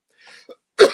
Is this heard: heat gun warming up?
no